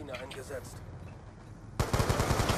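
Rapid automatic gunfire from the Call of Duty Black Ops 2 multiplayer mode bursts in loud and close after a stretch of quieter game noise, with a voice heard early on.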